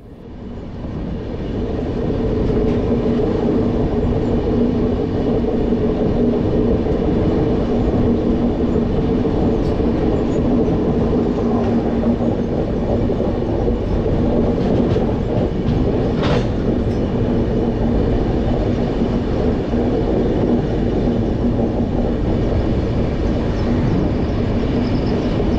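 Steady loud rumble and rattle of the Bangalore to Chennai Shatabdi Express running on rails, heard from inside the coach, with continuous roar and faint rhythmic clatter throughout.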